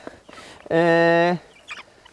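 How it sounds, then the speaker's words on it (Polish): A single sustained nasal honk from goslings waiting for breakfast rises out of quiet, holding steady for about half a second, followed by faint soft peeps and rustling. "Nasze gąski. Gąski też czekają na śniadanie"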